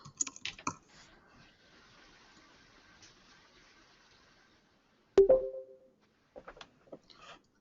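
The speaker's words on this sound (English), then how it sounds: "So I might type something like Tech Webinar Drive folder." Light clicks of a computer keyboard come in short bursts at the start and again near the end. A sharp knock or thump falls in between, and the background is otherwise quiet.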